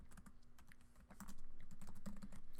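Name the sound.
typing a link name on a computer keyboard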